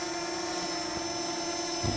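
A quadcopter drone flies close by, its propellers giving off a steady high buzzing whine with constant tonal hum throughout, loud and without speech.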